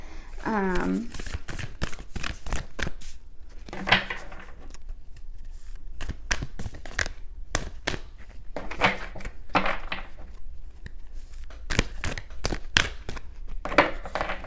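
Tarot cards being shuffled by hand during a pick-a-card reading: a string of close, crisp riffling bursts and slaps spaced irregularly, with a brief voice at the start.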